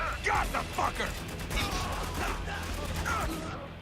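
Shotgun blasts in the game Spec Ops The Line: several muffled shots and impacts in a busy mix, sitting under someone talking throughout.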